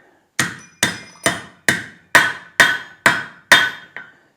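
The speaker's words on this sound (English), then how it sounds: "And there we have a good punched hole." Steel punch driven through a hot steel bar while forging a logdog, struck eight times with a hammer in an even rhythm, each blow a sharp, loud metallic impact ringing briefly before the next.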